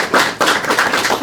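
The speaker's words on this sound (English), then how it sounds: "Can you please give them a round of applause?" Audience applause for panel speakers at an arts and homelessness academic research session, a short burst of dense, fairly loud clapping with no talk over it.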